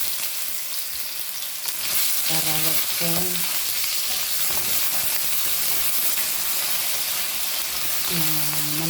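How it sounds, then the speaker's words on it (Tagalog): Potatoes fry in a pan with a steady, close crackling sizzle throughout. Someone speaks briefly over the cooking. "Iprito natin para huwag malusa."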